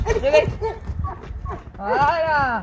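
Horse hooves clip-clop along a road in Morocco while a rider urges the animal on, the steady hoofbeats running under close, frequent talking.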